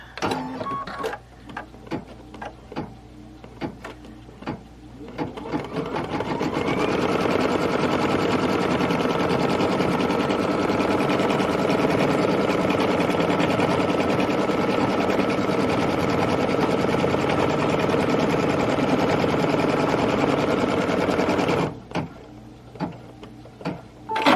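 An embroidery sewing machine stitches a placement line for a felt background piece, running in a fast, steady mechanical rattle for about fifteen seconds after some scattered clicks and taps, then stopping abruptly; close and fairly loud.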